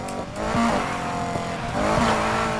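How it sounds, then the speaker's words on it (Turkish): Tires squeal as cars skid during a Need for Speed Heat race, with sharp screeches over a steady engine roar that holds throughout. "Senin araba kayıyor."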